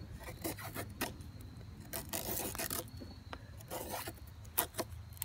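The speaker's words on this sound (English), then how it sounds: "Make long shavings." A bushcraft knife shaves long curls from bone-dry wood while carving a bow drill set, a series of close, dry rasping strokes with short pauses between them, no talking.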